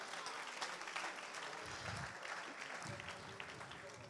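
A church congregation claps in praise, a steady broadband patter of many hands at moderate loudness continuing through the whole stretch, with faint low rumble and room murmur beneath.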